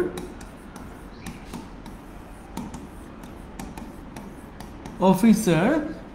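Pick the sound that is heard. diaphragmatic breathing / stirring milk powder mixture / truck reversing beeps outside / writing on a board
writing on a board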